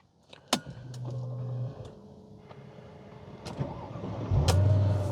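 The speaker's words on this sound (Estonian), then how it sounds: "ma panen lihtsalt siit süütest auto käima" A Mercedes-Benz E55 AMG starts from the ignition key: key and switch clicks, a short whirring, then the engine catches and settles into a steady idle, fairly quiet and close.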